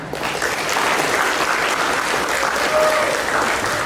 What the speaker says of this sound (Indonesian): Kita berikan tepuk tangan buat panitia